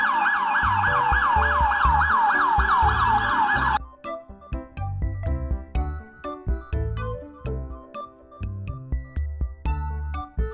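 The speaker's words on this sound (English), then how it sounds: "Police car." A police car siren wails loudly and close in a fast, repeating yelp for about four seconds, then cuts off, leaving rhythmic music with beats.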